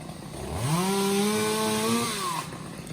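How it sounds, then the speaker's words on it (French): Two chainsaws pruning high in a tree: one engine revs up to a high, steady whine for a couple of seconds, then drops away, with the second motor humming underneath. "il y a deux monsieur et deux tronçonneuses qui tournent"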